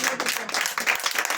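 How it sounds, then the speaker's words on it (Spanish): A short burst of congregation applause in a church service, brisk clapping heard at moderate level. "Ahora le pido que aplauda a Cristo."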